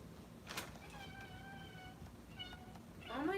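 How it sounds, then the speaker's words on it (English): Pet cat meowing indoors, a drawn-out meow early on and a rising plaintive meow at the end, moderately close, with faint background noise. "Is our cat talking?"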